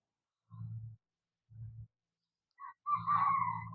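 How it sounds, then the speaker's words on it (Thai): A rooster crows once near the end at sunrise by the sea, a bright warbling call rising over a low rumble, after a few short dull thumps. "เห็นบ่เสียงไก่ขันพี่น้อง"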